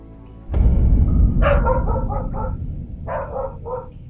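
A dog barks in The Wolf Among Us video game, quick bursts of several sharp barks, a pause, then a few more, over a low rumbling background.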